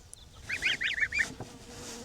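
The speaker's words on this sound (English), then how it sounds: "now we're gonna see how big these geese have grown" Several young geese honk in a quick series of short, nasal calls, fairly close and clear against a faint background hum.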